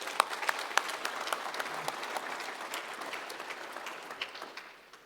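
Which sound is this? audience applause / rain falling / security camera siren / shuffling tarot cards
audience applause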